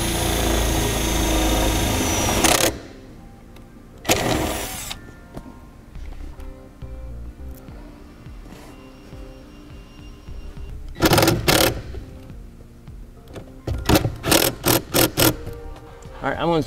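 A power driver runs a sheet metal screw into the body panel behind the parking brake of a 2014 Honda CR-V, giving several loud whirring bursts with pauses between, ending in short rapid pulses as the screw seats.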